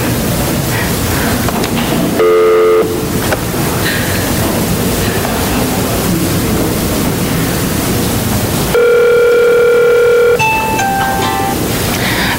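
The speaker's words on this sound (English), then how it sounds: "You can also hit redial and the pound key, and it will redial the last number you dialed." A desk phone plays two bursts of keypad dial tones, one short and one longer sequence of stepped tones, over a loud, constant hiss of line noise.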